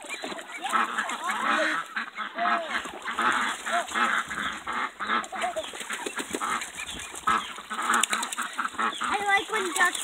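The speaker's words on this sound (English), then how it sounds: "Because ducks are ducks and they like playing in the water." Ducks honk and quack in a busy, continuous chorus near a water-filled container, with splashing and flapping mixed in and a person talking intermittently underneath.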